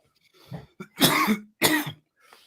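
Two loud, harsh coughs close by, with a short throaty sound before them and a quieter one trailing after.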